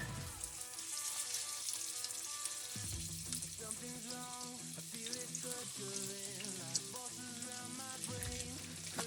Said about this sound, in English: We've got a nice sizzle going on there.